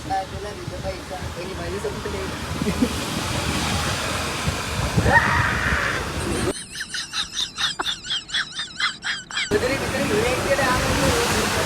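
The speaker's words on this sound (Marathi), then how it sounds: "किती पाऊस जोरात आहे" Heavy rain pours in a dense, steady hiss that fills the whole stretch, with a brief muffled change partway through and voices faintly underneath.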